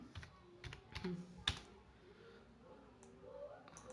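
A command is typed on a computer keyboard for a Linux netcat demo, with faint scattered key clicks in short bursts, then a single sharper tap like Enter and a few soft clicks after it.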